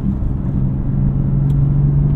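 A BMW F80 M3 engine drones loud and close from inside the cabin, a deep steady rumble with a rising tonal hum as the car pulls forward, no voices.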